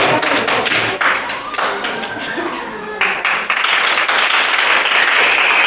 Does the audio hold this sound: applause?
yes